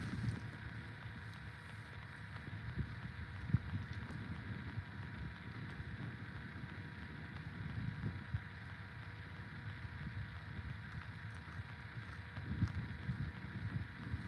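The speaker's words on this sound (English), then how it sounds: "that wind is picking up" Wind gusting steadily outdoors at a campfire, a continuous low rumbling roar with broadband buffeting against the microphone, rising in a few stronger gusts, with no talk.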